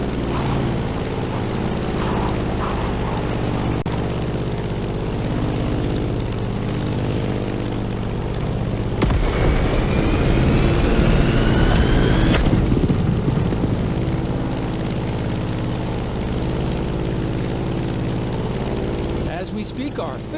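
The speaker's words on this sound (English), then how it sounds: "In the cockpit of a stunning Grumman F8F Bearcat, or simply the Bear." Piston engine of a Grumman F8F Bearcat propeller fighter in the racing game The Crew Motorfest, a steady loud drone with a low throbbing hum throughout, swelling briefly in the middle, with music or other game sound mixed in.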